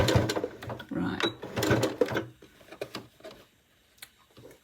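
A sewing machine stitches soft, silky Liberty Tana Lawn fabric in a few loud, close bursts of rapid mechanical ticking, then goes quiet with light handling noise and a voice in the background.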